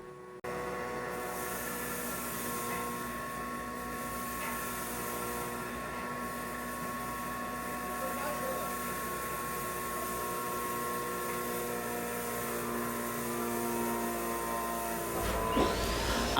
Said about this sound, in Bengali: এই ধরনের ডাবল চেম্বার আটা তৈরি করা মেশিন